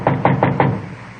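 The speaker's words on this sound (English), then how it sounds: "went up to the 4th floor and knocked at the door." Four quick, firm knocks on a wooden door in an old-time police radio drama, close and evenly spaced, then a brief quiet tail.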